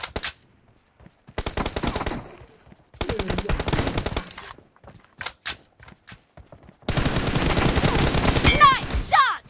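Bursts of automatic gunfire from the battle royale game BGMI in a team deathmatch, several rapid volleys separated by short pauses, with a long sustained burst near the end, loud and close.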